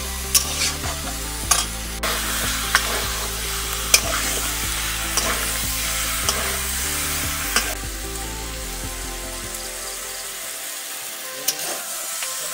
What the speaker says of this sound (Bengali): আমাদের মাংস কষানি চলছে